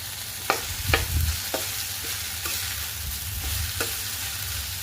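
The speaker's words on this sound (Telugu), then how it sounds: "మనము ఇక్కడ అల్లం వెల్లుల్లి పేస్ట్, ఇంకా 1/2 టేబుల్ స్పూన్ పసుపుని కూడా వేసుకొని ఫ్రై చేసుకోవాలి." Ginger garlic paste and turmeric fry over a low flame in a pan, a soft, even sizzle with a few sharp spatula taps and scrapes, fairly quiet and without speech.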